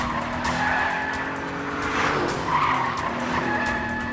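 A car tears along at speed in an action-movie chase, its tires squealing and skidding in a long, loud, wavering screech over a steady engine roar, with no talking.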